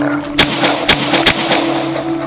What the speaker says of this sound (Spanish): Chris apuntó y abrió fuego.